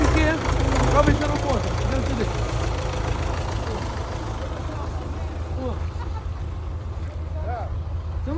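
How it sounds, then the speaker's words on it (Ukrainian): Tractor engine idling on a farmyard being cleared of stumps, a steady low rumble with a knocking pulse running throughout while people talk over it nearby. "Трактор"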